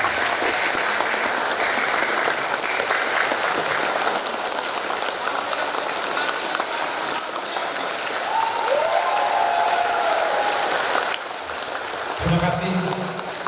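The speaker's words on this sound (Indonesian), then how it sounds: "kita beri tepuk tangan yang sangat meriah buat head founder kita, Bapak Anggia Simatupang" Sustained, dense applause from a seminar audience welcoming their head founder, loud and steady for around eleven seconds before thinning, with a brief voice and rustle at the end.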